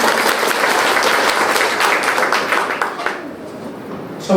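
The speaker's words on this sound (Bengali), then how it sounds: "স্যারের জন্য একটা জোরে করতালি হবে।" Loud, dense applause from an audience at a district singing-contest audition in Kalai, Jaipurhat, honouring the district commissioner; many hands clap continuously, then the clapping thins and fades out toward the end.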